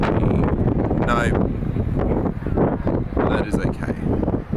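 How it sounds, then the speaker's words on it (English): Wind buffeting hard across a microphone at an outdoor race, a loud continuous roaring rumble that swells and dips, with a voice talking faintly underneath. "It's very windy."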